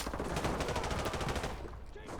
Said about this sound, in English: RPD is the LMG version, or light machine gun version.